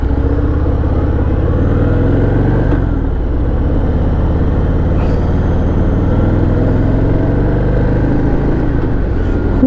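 A Harley-Davidson Fat Boy motorcycle cruises on a highway with a loud, close, continuous low engine rumble and wind noise, and its pitch shifts slightly as it goes.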